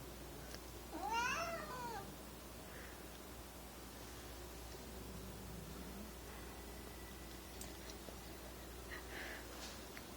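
Two house cats growl at a kitten, giving a faint low rumble under steady hiss while a single cat-like meow rises briefly near the start, with no talking.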